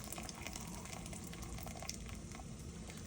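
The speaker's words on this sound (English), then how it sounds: "I'm just taking it out and we'll drain it" Water gushes and splashes steadily as macaroni is poured out to drain, a close, continuous rushing hiss.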